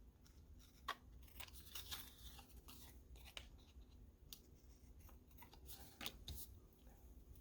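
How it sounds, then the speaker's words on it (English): Scissors trimming a sheet of paper board, heard as quiet, scattered snips and crisp rustles of the board spread over several seconds, close by in a hushed room with no talking. "Let's get my scissors."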